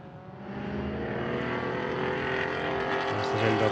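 Porsche race car number 99 at the Estoril circuit during an Iberian Supercars race, its engine droning steadily and building slightly in loudness as it runs past, continuous for a few seconds.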